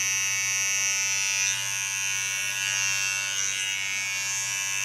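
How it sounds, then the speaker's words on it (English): An electric hair clipper cuts hair during a short asymmetric pixie haircut, with a steady, loud, close-up buzz that stays constant throughout and no talking. "Go in with my clipper."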